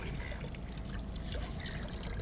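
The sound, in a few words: water trickling out of washing machine hose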